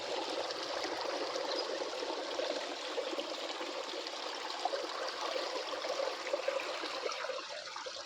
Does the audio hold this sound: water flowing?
yes